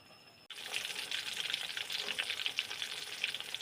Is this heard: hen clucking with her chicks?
no